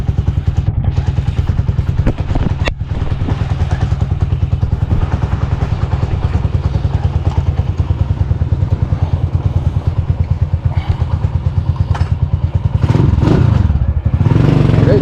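A motorcycle ridden on a short local trip, its engine droning loudly and continuously with a rattly, pulsing clatter and a rise in revs near the end.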